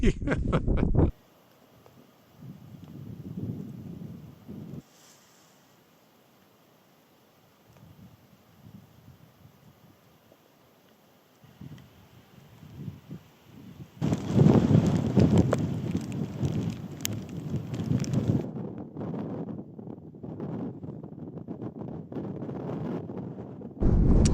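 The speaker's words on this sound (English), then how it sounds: "with this wind up the tops, that's even more the plan now" Strong wind buffets the microphone on a mountain top in the Bluestack Mountains of Donegal, coming in loud roaring gusts between quieter lulls.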